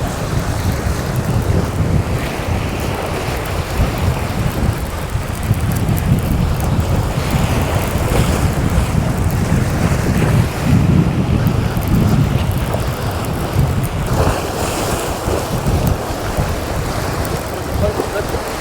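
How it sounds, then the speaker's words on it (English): A strong westerly wind buffets the microphone on a South Wales fishing shore, with constant rumbling gusts over the wash of surf, loud and unbroken throughout. "There's quite a strong westerly wind coming through today, so I hope you can hear me fine, and I hope the wind's not wrecking the audio too much."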